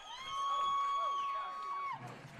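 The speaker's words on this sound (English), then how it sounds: "at the Shark Tank as the crowd goes wild." Crowd cheering at full time of a QAFL preliminary final football match between Redland-Victoria Point and Wilston Grange at the Shark Tank, a swelling roar of voices with a long siren tone over it, dropping off sharply near the end.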